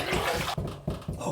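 A razor is rinsed under running water, giving a short, close, splashing rush that breaks off and resumes in bursts.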